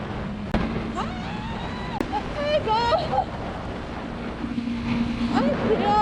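Steady, blustery wind rumble buffets the microphone throughout while riding a motorcycle on a windy day, with a few brief vocal sounds rising over the roar.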